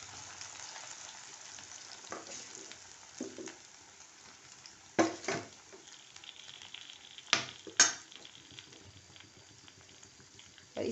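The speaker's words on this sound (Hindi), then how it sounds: "अब इसी गरम तेल में थोड़ी थोड़ी भिंडियाँ डाल के फ्राई करनी" Okra pieces fry in hot oil over high heat, a steady close bubbling sizzle broken by several sharper spatters and pan knocks.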